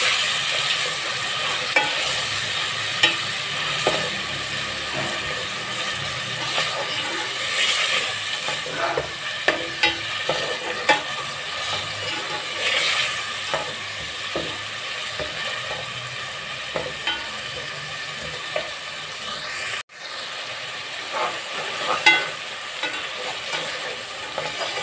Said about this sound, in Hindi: अब अदरक लहसुन को प्याज के साथ अच्छे से ब्राउन करना है।